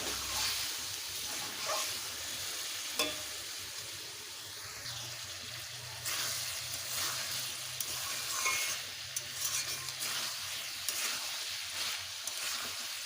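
Soybean and potato curry cooks in a pan with a splash of water, a soft steady bubbling sizzle with intermittent stirring scrapes, fairly quiet and without speech.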